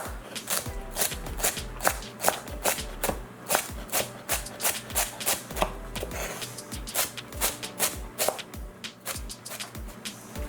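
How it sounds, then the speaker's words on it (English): Rapid, steady knife chops through herb stalks on a cutting board, a quick rhythmic tapping continuing throughout at close range. "I'm just going to run my knife down the center and then go ahead and chop."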